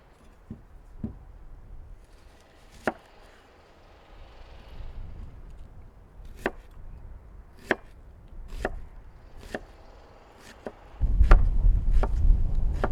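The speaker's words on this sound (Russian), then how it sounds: "В первую очередь нарежем лук." A knife chops an onion on a board in sharp, sparse, distinct strikes at an uneven pace. A louder rumbling noise comes in near the end.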